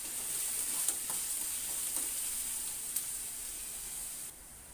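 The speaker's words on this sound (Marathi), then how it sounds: "कांदा चांगला तेलामध्ये परतून घ्यायचा आहे।" Onion and garlic sauté in oil in a pan, giving a soft, even hiss close by, with a few faint scrapes of a spatula, and the sizzle drops slightly near the end.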